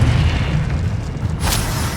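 A Confringo fire spell explodes in the video game Hogwarts Legacy, a loud booming blast that rumbles steadily through the whole moment, with a brighter burst near the end.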